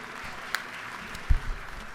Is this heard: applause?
yes